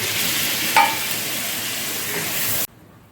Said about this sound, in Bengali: মশলাটা ভালোভাবে কষানো হয়ে যাওয়ার পর আমি এর মধ্যে একটু জল ঢেলে দেবো যাতে মশলাটা একটু সেদ্ধ হয়